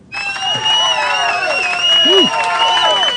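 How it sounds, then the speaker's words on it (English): A canned crowd cheering effect plays loudly: dense cheering, clapping and whistles swell at once and hold steady, with excited voices whooping within the mix. "Where's my cheering thingy?"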